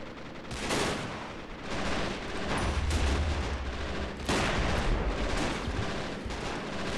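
Sustained gunfire and heavy weapon blasts in the war strategy game Men of War: Assault Squad, a dense continuous battle din with repeated sharp reports over a low rumble.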